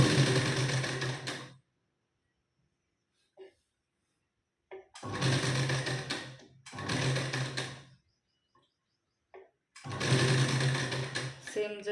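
A sewing machine stitches katori blouse pieces together, joined with a half-inch seam margin. It runs in four loud, close bursts of rapid whirring, each a second or two long, with quiet pauses and faint handling sounds between them.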